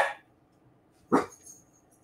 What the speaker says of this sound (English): The dog's always barking.